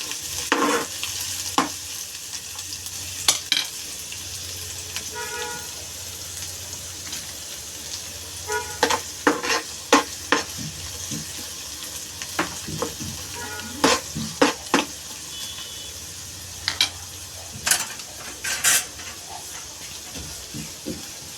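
Onions frying in a pan for prawn masala, a steady close sizzle and hiss under repeated scraping and clattering stirs of a spoon against the pan, continuing for a long stretch with no voices.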